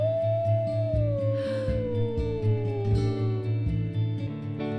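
A long wolf howl in the WolfQuest video game slides slowly downward in pitch. It rises over a steady, droning musical loop with a regular pulsing beat.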